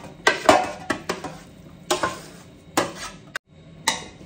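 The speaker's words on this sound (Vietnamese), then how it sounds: "bây giờ thì Mai sẽ trộn món salad tôm xoài nhé" Shrimp and mango salad being tossed in a bowl, with a run of separate utensil clinks and scrapes against the dish, fairly close and alone.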